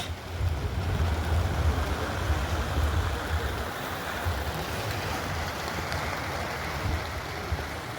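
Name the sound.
violent storm wind and rain outside tent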